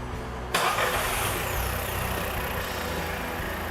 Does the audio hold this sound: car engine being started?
yes